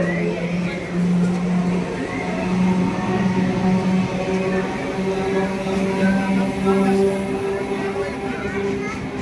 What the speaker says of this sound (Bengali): এক নম্বরে ঢুকছে নামখানা শিয়ালদা লোকাল।